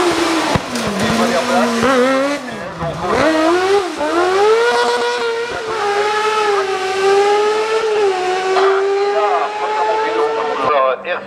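A small racing microcar fitted with a Yamaha R6 motorcycle engine screams close by at the 2013 Turckheim hill climb, its high-revving note rising and dipping through gear changes for several seconds, loud and continuous.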